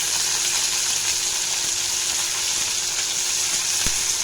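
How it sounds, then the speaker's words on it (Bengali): Onion frying in oil with nigella seeds and a dried red chilli for a Bengali prawn dish, a steady close sizzle running throughout with a brief sharp tick near the end. "পেঁয়াজটাকে একটু লাল লাল করে ভেজে নেব।"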